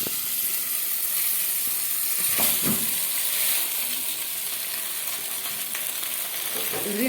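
Macaroni fries in oil with garlic and chili paste, giving a steady loud sizzle and hiss, with brief clatters of stirring in the pot near the start and end.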